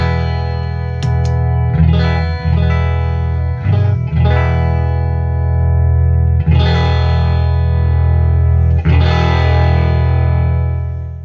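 An electric guitar played through a Behemoth II bass overdrive pedal into an amp rings out in several sustained, distorted chords and notes, thick and saturated, each struck and left to decay, with no talking.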